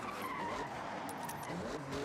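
A car in the racing game Forza Horizon 6 drives through a tunnel, its engine a steady, enclosed roar with tire noise underneath, continuous and fairly close throughout.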